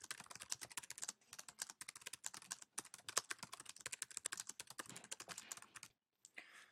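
Keys clatter on a Mac computer keyboard during typing in Pages, a rapid, close stream of light clicks broken by brief pauses, with a short silence near the end before a few more taps.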